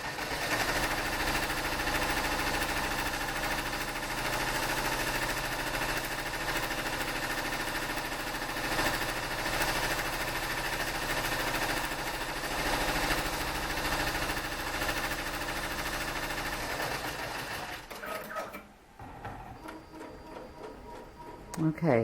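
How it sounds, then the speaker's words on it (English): An embroidery machine stitches out the outline for a baseball design, its rapid steady needle hum running continuously and close before stopping abruptly near the end, followed by brief handling noises. "it's going to stitch out the outline for the second one"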